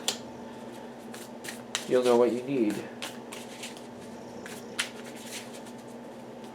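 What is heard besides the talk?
tarot cards being shuffled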